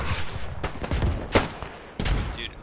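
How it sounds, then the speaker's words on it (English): Heavy WW1 field guns firing back and forth in the Beyond The Wire video game: several sharp, booming reports spaced irregularly over a rumbling battlefield backdrop, with no talking. "I think our field gun and their field gun are just trading shots"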